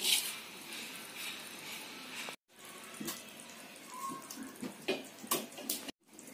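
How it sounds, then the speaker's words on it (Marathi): Cleaned prawns being rinsed in a vessel of water: quiet sloshing, splashing and trickling with a few brief pauses, no one talking. "आता आपण हे 2 पाण्यात धुवून काढू।"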